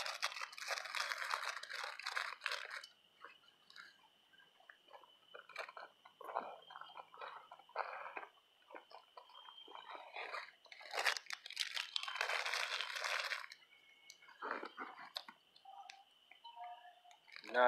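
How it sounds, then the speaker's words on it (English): Wrapped Clif Bars and crackers get stuffed into a pocket outdoors at night, giving close, intermittent bursts of crinkling and crunching packaging with quieter gaps and a thin steady background tone between. "Kind of load up my pocket here with some Cliff Bars and crackers."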